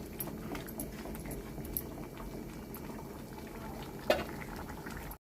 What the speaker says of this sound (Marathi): ह्यालाही झाकण न ठेवता आपण शिजवून घ्या, म्हणजे यातलं पाणी आहे ते पूर्ण आटून जाईल व्यवस्थित